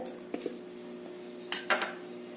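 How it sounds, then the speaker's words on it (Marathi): Mango pieces drop into a mixer jar with a few faint, quick clinks and knocks, quiet and close. No one speaks. "एका मिक्सरच्या भांड्यामध्ये हे आंब्याच्या फोडी घालायचं"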